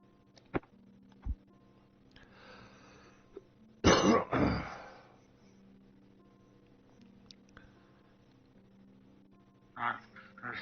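One man clears his throat and coughs in a few sharp bursts scattered across a quiet room, with the loudest rough cluster near the middle and a last short one near the end.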